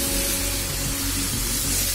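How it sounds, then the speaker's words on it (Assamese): Frying dal (lentils) meeting a splash of added water, giving a steady, loud broadband hiss of sizzle and steam that holds constant throughout, with a low hum beneath and no voices. "মই এতিয়া ইয়াতে পানী এড কৰিম অলপ অলপকৈ।"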